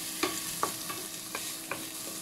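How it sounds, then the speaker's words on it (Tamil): Spinach and peas sauté together in a pan for soup. A constant sizzle runs underneath, and about five distinct scraping stir strokes fall at uneven intervals, all close up and with no voices. "ரெண்டும் சேர்த்து வதக்கிட்டு இருக்கிறோம்."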